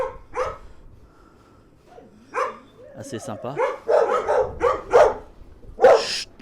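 A neighbour's dog barks repeatedly nearby beside a garden with a pear tree, sharp loud barks and yips in uneven bursts, with a person speaking French between them.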